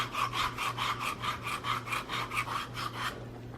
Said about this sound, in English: The grater here kind of smooths everything out.